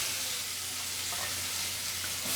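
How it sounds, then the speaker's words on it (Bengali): Chopped onion frying in oil with bay leaf and whole garlic cloves, a steady close hiss of sizzling that holds evenly throughout with a faint stir near the end. "ওই পেঁয়াজ কুচিটা হালকা একটু ব্রাউন করে ভেজে নেব"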